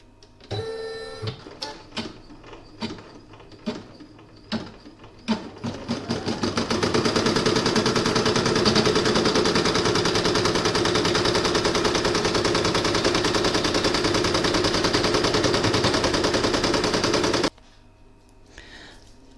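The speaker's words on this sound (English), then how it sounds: "And now I'm going to put it in my machine to do the outline stitching." An embroidery machine stitching a coaster outline: several sharp mechanical clacks at first, then a loud, dense, rapid rattling run that holds steady for about ten seconds and stops abruptly, with quiet afterward.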